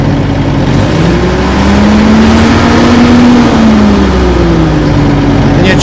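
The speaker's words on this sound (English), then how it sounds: "when you let your foot off this, you rev up again" Old bulldozer left sitting in the bush for years revving up loudly as the decelerator pedal is released, engine pitch rising and then easing back in one long swell, close and alone.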